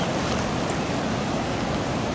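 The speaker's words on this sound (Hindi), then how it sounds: "वो देखे पानी की स्पीड कितनी तेज़ हो रही है" Sea waves surging onto a beach at Sea View, a steady loud wash of broadband surf noise that rushes on without a break, heard with no voices.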